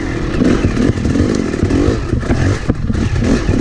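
A dirt bike engine snarls and revs hard through a hard enduro lap ridden standing up, loud and close with uneven throttle bursts, clattering and scraping over rough terrain.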